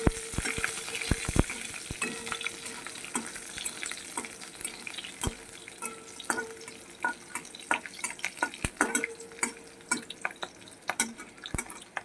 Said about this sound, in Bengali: একটু ভাজা হতে থাকুক